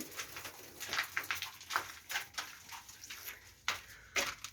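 Pet pigeons or doves kept in an aviary, several birds cooing in short repeated bursts close by, with soft rustling and no talk.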